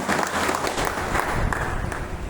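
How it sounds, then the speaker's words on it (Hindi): An audience claps loudly and steadily at a business event, a dense, continuous wash of applause that fills the room with no pauses. "एक बार के लिए जोरदार ताली, सब लोग ताली बजा दीजिए।"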